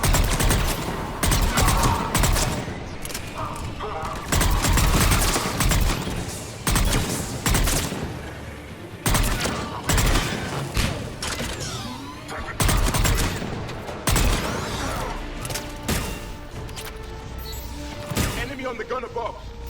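Gunfire from a mounted gun in the Mass Effect 3 combat game, dense bursts of rapid automatic shots and heavy impacts repeating in waves, loud, with game voices calling out between them.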